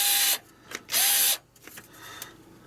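Screwdriver or power driver removing T10 screws from an Xbox 360 S console, two short loud whirring bursts with a faint click and small mechanical noises between them.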